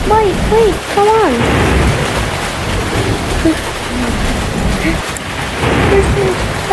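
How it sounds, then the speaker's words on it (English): Game thunderstorm in Toca Life World: steady loud rain hiss with a low rumble of thunder, under excited voices and a rising-falling cartoonish wail or vocal sound early on. "This is thunder."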